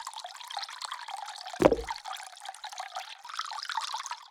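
A brief liquid splash or slosh of water being moved around in the video game Nomad Drive, a single short burst standing out from a faint, steady trickling background.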